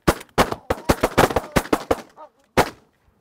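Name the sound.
shotgun gunfire during Canada goose hunt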